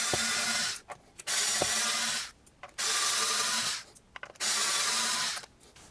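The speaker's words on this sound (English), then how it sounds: "we have to remove these 4 screws" Screws are backed out of an electric guitar bridge with a hand tool, giving three bursts of close grinding, ratcheting friction separated by brief quiet gaps.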